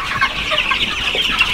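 Day-old chicks in a heated poultry brooder make a dense, continuous chorus of high peeping, close and loud.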